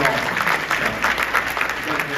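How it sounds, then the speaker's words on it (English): Audience clapping at a business association's annual meeting and celebration, a steady, fairly loud burst of applause from a crowd filling the room for the whole stretch. "Everybody give them a round of applause."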